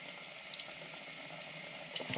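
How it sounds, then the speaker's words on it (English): Water runs steadily from a kitchen tap as hands are washed, a soft continuous hiss with a few small splashes and no talking. "Last one, just wash my hands before I start with the next ones."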